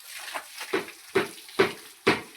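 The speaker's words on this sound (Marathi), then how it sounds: "आता धुवून काढते का नुसतं पाणी मारते काय माहित नाही" Water thrown over a small cow in an outdoor yard, five rhythmic splashing swishes growing louder and closer, with no talk.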